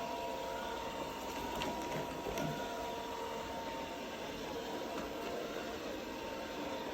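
A voice-controlled Costway robot vacuum cleaner runs across the floor, making widening circles toward a carpet, giving a steady, continuous motor whir and brush hum at moderate level throughout, with no talking.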